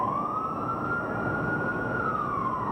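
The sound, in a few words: three short siren blasts before building implosion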